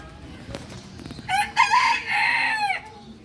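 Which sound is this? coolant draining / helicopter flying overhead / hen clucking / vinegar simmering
hen clucking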